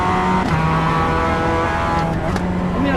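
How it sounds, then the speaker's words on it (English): A car engine drones loudly and steadily throughout, with a voice talking over it the whole time. "I still want you to hear engine noise"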